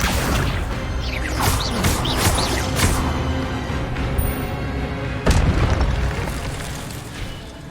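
Spell effects in Hogwarts Legacy, an Incendio fire spell: several sharp whooshing bursts in quick succession, then a loud booming blast about two-thirds through over steady rumbling, with no talk.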